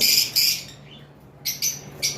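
Blue lovebirds at a breeding farm give sharp, high chirps in short bursts, several calls separated by brief pauses, loud and close with no talking.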